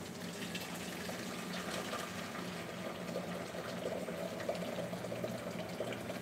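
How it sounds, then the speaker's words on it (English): Water pours from a tap into a kettle in a kitchen, a steady rushing gush that stays even and fairly close for several seconds with no talking. "Get a kettle of water."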